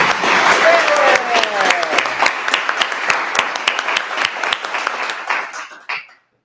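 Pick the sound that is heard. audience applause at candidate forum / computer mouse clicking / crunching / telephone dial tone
audience applause at candidate forum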